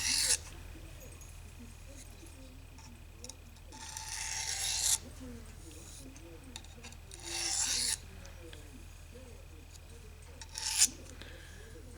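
Knife blade being sharpened on an EZE-LAP 400/600 diamond sharpening stone, three distinct rasping strokes, close and fairly loud, with someone talking quietly between them.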